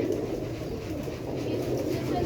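Ali Wale and Batare pigeons coo in a loft, soft low throaty coos repeating through a steady murmur of background noise.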